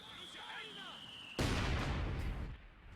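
Mortar fire in Company of Heroes 2: after a quieter stretch of whistling battlefield tones, a sudden loud blast erupts and rumbles on for about a second before fading.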